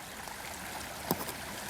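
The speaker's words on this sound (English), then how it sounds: "Frog Creek is flowing very strong." A creek at night, flowing strongly, gives a steady broadband rush of water close by with one brief splash or knock near the middle, no voices.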